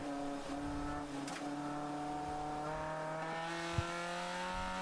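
Race cars head back out onto the track during a ChampCar 12-hour endurance race at VIR South, their engines a distant steady drone of overlapping tones, quiet and continuous with a brief knock near the end.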